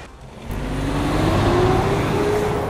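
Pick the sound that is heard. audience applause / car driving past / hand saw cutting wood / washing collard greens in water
car driving past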